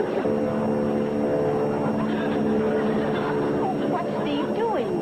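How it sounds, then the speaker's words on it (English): A small airplane engine drones at a steady, moderately loud level beneath voices that keep talking throughout. "That sounds like my plane."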